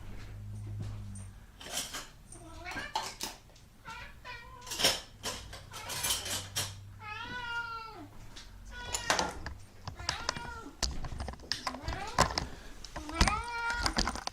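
A hungry cat meows repeatedly and insistently before being fed, several drawn-out, rising cries spaced between softer household clatter and quiet background talk, close to the listener.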